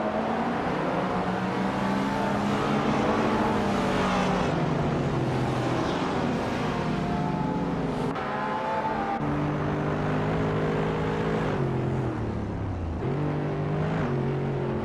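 Race cars in a racing video game roar continuously, several engine tones rising and falling as they accelerate and shift, loud and steady with no talking.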